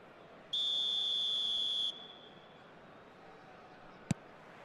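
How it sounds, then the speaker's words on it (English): A referee's whistle sounds at kick-off in the eFootball video game: one clear, high, sustained blast lasting over a second, followed later by a brief faint click over quiet background. "There's the whistle."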